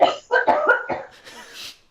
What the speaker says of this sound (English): So I'm gonna have to cough.